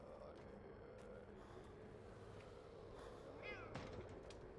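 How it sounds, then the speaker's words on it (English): A faint video game cat meow rises briefly near the end over a low, steady game background hum. "That was a cat sound."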